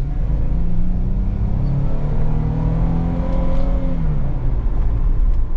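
Jeep Wrangler Call of Duty Edition with an 8-speed automatic accelerating hard, engine note rising through gears in a loud, close, sustained roar from inside the vehicle.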